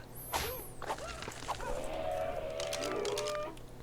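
A dodo bird in the survival game ARK Survival Evolved gives a few fairly quiet clucks and squawks, with soft whooshing movement sounds mixed in.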